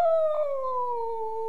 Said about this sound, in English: Freaky dog.